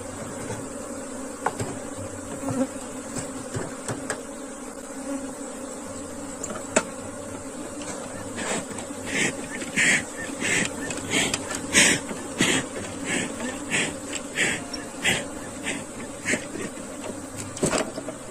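Africanized honeybees buzz at a hive, a continuous close drone with rising clusters of sharp, irregular ticks and taps over the steady hum.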